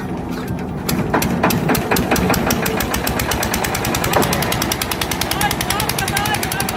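A jugaad trolley runs on its own engine without a tractor, giving a loud, fast, evenly spaced knocking chug that holds steady throughout.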